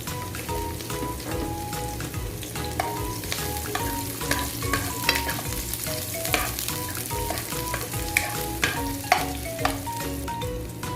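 Onion and garlic sauté in oil in a wok, with a continuous loud sizzle and crackle and occasional stirring scrapes close by. There is no speech.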